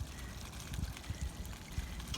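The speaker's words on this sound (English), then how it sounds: "Okay, you can hear some of that coming down." Gray water from an RV motorhome's shower tank drains through the outlet hose as a faint, steady trickle and pour, with soft low thumps and no talking.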